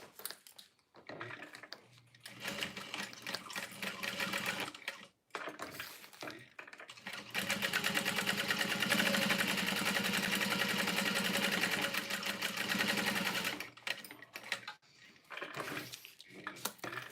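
A sewing machine runs top stitching along fabric in a steady mechanical whir that lasts several seconds. Shorter bursts and handling clatter come before and after it, at moderate level, with no talk.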